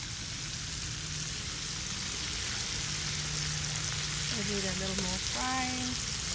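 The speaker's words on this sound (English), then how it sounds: "And we have our fish frying." Bangamary fish frying in a pan outdoors by a lakeside, a soft, steady sizzle throughout with faint bird-like chirps near the end.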